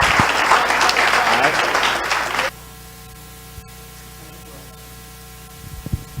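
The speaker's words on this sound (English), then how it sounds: "Give him a big round of applause, y'all." An audience at a Black History event breaks into loud, dense clapping for a couple of seconds, then it cuts off abruptly, leaving a quiet electrical hum with a few faint knocks.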